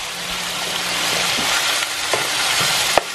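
Chicken pieces fry in a pan while browning for tinola, a steady close sizzle with occasional stirring clicks and a sharp tap near the end, no talking.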